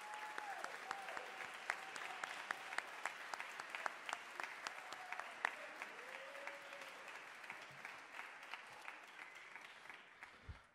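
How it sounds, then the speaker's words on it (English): Concert audience at a jazz bash applauding the jazz students, a steady wash of many hands clapping, fairly distant and soft, continuing evenly for around ten seconds before fading. "If we could give them a round of applause,"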